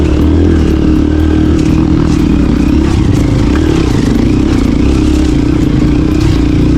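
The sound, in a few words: motorcycle riding uphill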